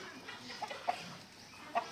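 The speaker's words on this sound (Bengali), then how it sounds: "এগুলো হলো টাইগার মুরগি" Soft clucks from Tiger breed chickens come in a few short bursts against a quiet outdoor background, with no voices.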